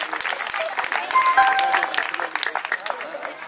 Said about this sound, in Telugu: ఒక్కసారి చప్పట్లు కొడదామా వారి కోసం?